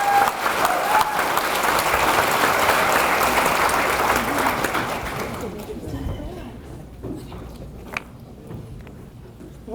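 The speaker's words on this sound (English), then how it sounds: "please give them another warm round of applause." Warm audience applause for contestants at a Peanut Fest queen's banquet, loud and dense at first, then fading away about halfway through to a quieter room with scattered small sounds.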